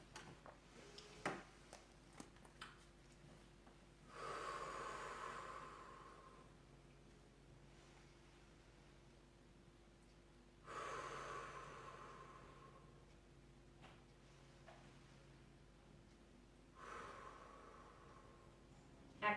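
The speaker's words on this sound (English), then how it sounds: "let's take a nice deep breath" Three slow, deep breaths during a seated cool-down exercise, each a long soft airy swell several seconds apart over a quiet room, with no talking.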